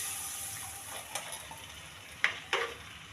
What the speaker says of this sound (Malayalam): നമ്മൾ അരച്ച് വെച്ചിരുന്ന തേങ്ങയും കുടംപുളിയും കൂടി അതിനകത്ത് ഒഴിച്ചു കൊടുക്കുക